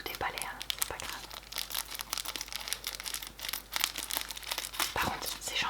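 Packaging for a Comica Traxshot microphone is unwrapped up close, with dense crinkling and tearing of plastic and paper alongside quiet whispering.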